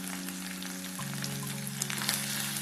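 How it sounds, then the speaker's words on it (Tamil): Turmeric, chili powder, coriander powder and garam masala sizzle in hot oil for a masala egg fry, a steady close crackle with fine spitting pops and a faint low hum underneath, no voices. "ஒரு 1 நிமிஷம் வந்து மசாலா எண்ணெயில் வதங்கட்டும்"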